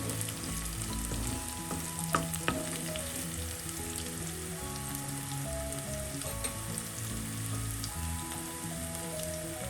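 Okra (bhindi) masala sautéing in a pan, a steady dense sizzle and crackle of frying with occasional stirring clinks, close and continuous for the whole stretch with no talk.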